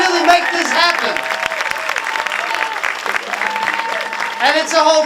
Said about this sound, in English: Can we give a round of applause to the people that really make this happen?